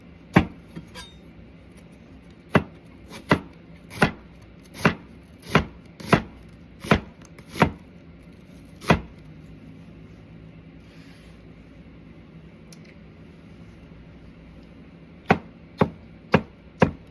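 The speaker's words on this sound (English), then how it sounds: "I'm also gonna be testing these knives and how sharp they are." Knife chopping food on a cutting board while its sharpness is tested, a series of crisp, evenly spaced chops, then a pause and a few more cuts, close and clear.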